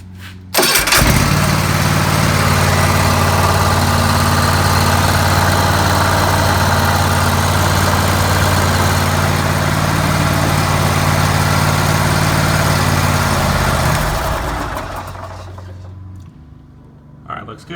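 A Kohler 7000 engine on a Hustler Raptor 42-inch mower starts up and idles steadily with a loud, even drone for about thirteen seconds, then winds down and cuts off.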